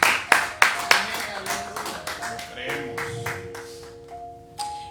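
Church congregation claps in a short burst of sharp, separate hand claps that thin out, with voices and sustained organ-like tones carrying on beneath and after.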